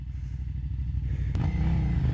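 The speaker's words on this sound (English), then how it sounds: "Owen McKill, the young whippersnapper, also on a KTM 950, making noise!" A carbureted KTM 950 motorcycle engine idles with a lumpy low rumble, then after a sharp clack its revs climb into a rising, louder growl, heard up close with no talking.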